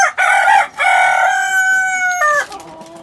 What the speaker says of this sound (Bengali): মোরগ মুরগিগুলা ডাকতেছে আর কি